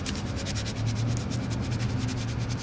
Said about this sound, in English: Keep squeegee on it. Keep it tight.